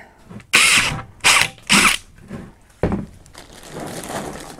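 A power drill bites into a plastic bucket in several short bursts, loud and close, with brief pauses between each whirring grind.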